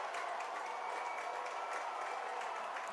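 Spectators fill the stands at a high school homecoming night football game, Monroe at Snohomish, making a faint, steady roar of distant cheering and chatter that blends into a continuous wash without clear individual voices.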